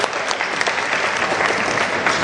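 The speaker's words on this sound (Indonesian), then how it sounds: "Sekali lagi tepuk tangan." An audience at a community event in Jakarta claps for a visiting official, giving a loud, dense burst of applause that continues steadily without a break.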